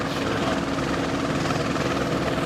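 Police helicopter flying overhead during a pursuit of teens on dirt bikes, a steady throbbing rotor drone that stays at an even loudness throughout, with no talking.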